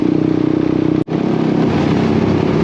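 A Suzuki Bandit 150 motorcycle with a GSX-R engine runs steadily at cruising speed, a loud, even buzzing drone with a brief dropout around the one-second mark before resuming.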